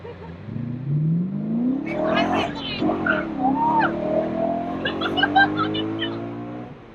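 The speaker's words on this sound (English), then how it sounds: "It's just the solid sound of the exhaust" A BMW M3 E92 4.0 V8 engine roars and climbs in pitch as it accelerates hard through the gears, loud and close, with rising exhaust tones.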